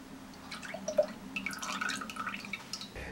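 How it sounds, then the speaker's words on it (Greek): Heavy cream is poured into a pot on a stovetop burner while making a chocolate log dessert, a brief close, quiet liquid splash and dripping trickle over a low hum. "στο μεταξύ ανάβω το δεύτερο μάτι και ρίχνω μέσα την κρέμα γάλακτος"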